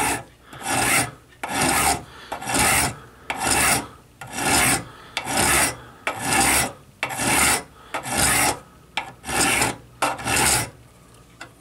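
A hand file rasps across a steel workpiece in steady back-and-forth strokes, about a dozen close, even passes with short gaps between them and no talking.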